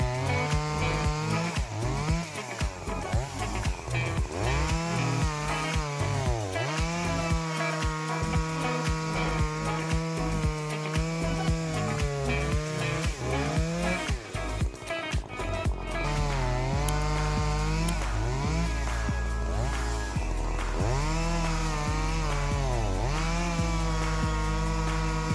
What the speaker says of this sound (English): I believe you will be very impressed with the Logasol F2 Farmer chainsaw